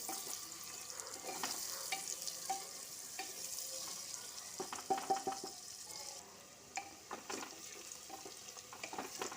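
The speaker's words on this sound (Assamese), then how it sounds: "পাচলিখিনি ভালদৰে ভাজি ল'ব লাগিব।" Vegetables for khichdi sizzle and fry in a pan while being stirred, with steady crackling frying noise and repeated scraping and clinking strokes of a spoon close up throughout.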